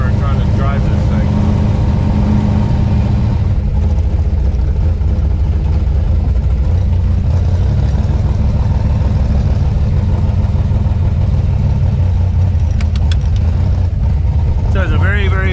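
A 1956 Chevy gasser with a locked axle rumbles steadily up close from the cabin, a deep continuous engine drone with rattling and shaking throughout, with no talk over it.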